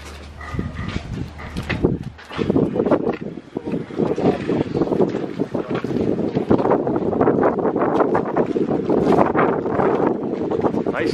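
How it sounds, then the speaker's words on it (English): Strong wind buffeting the microphone with a constant rumbling roar at an outdoor overlanding event in Minnesota, while people talk nearby and a dog barks briefly. "Nice day today, but it's super windy too."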